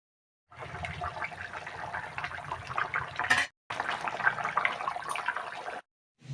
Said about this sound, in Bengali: তো দেখো বন্ধুরা ঝোলটা ফুটে উঠছে